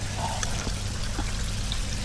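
Floodwater steadily pouring and trickling out of the doors of a flood-stranded Chevy Malibu, a continuous close splashing stream with a low rumbling background and no talk.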